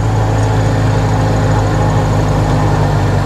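A Robin DR400 light aircraft's Lycoming piston engine idles on a grass field with a steady, continuous low rumble that stays loud and close throughout.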